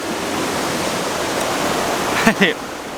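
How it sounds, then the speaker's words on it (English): Sea waves wash in at Mousehole on a rising tide, a loud, continuous close surf rush filling the whole stretch, topped by a brief louder splash near the end. "waves are coming right in now"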